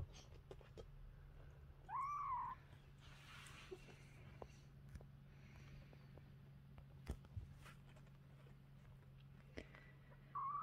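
Two cats scuffle at intervals, giving a few short, distinct meows or yowls at the start and the end, with quiet rustling and faint thumps in between.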